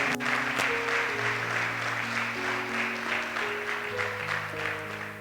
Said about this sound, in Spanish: Te animo a darle un aplauso al Espíritu Santo de Dios